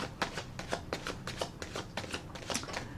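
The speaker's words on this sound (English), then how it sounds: "I'm going to rifle the cards and shuffle them one more time" Tarot cards riffled and shuffled in quick bursts, a papery flutter repeating about every half second, close up and fairly quiet with no talking.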